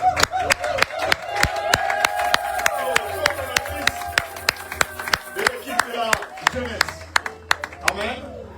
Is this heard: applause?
yes